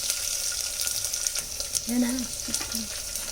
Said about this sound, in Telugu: పోపు గింజలు జీలకర్ర ఆవాలు వేసుకోవాలి తర్వాత ఎండిమిర్చి వేసుకోవాలి